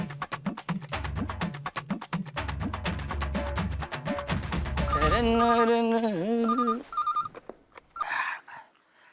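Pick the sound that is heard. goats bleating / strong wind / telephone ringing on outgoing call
telephone ringing on outgoing call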